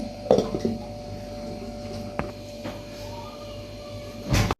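A metal lid goes onto a cooking pot of polos (jackfruit) curry, with a sharp clatter near the start, a single light tap midway and a louder clank of the lid settling at the end.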